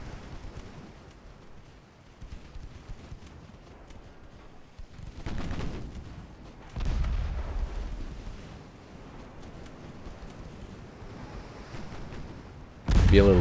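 Naval guns fire from warships during a 1918 battlecruiser engagement in Ultimate Admiral Dreadnoughts, booming blasts that swell out of a low rumbling battle din, with a heavy, sudden burst at the very end.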